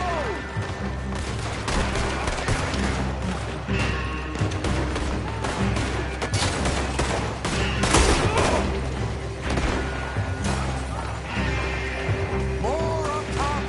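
Dense gunfire from a Red Dead Redemption 2 gunfight, with loud, rapid overlapping shots and impacts in a continuous chaotic barrage and occasional shouted voices mixed in.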